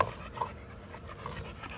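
American Bully dog named King panting steadily up close, a soft continuous rasp of breath with faint irregular pulses and no voices.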